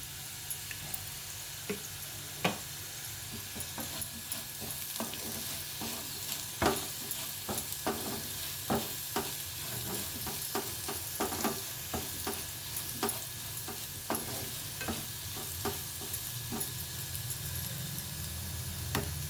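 Potato chunks fry in a pan with salt and chili powder under a steady close sizzle, punctuated by sharp spoon taps and scrapes as they are stirred, with no voices.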